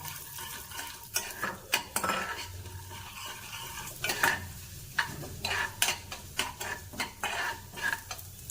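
A spoonful of urad dal crackles and sizzles in a hot frying pan, with repeated sharp clinks and scrapes of a spoon stirring against the metal.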